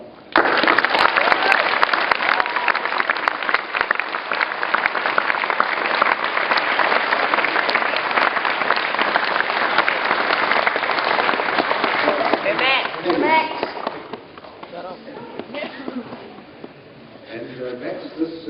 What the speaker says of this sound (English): you should applaud him for what he's actually done